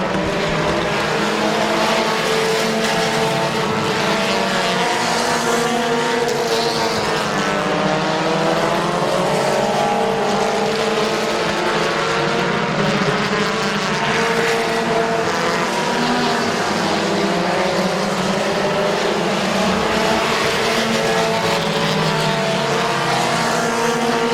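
Race cars roar around the Midvale Speedway oval in a dense, continuous drone, engines rising and falling as they pass close by, with no voices over the din.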